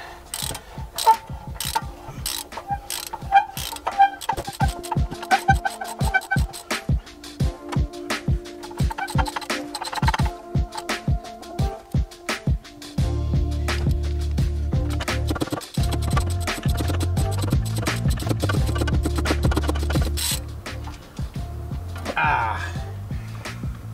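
Ratchet clicking steadily while nuts come off a Cobalt exhaust manifold, rapid repeated pawl clicks up close, with a person talking over it and a lower mechanical grinding later on.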